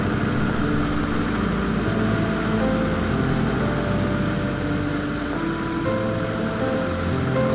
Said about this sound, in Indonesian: Naik ke badan jalan airnya.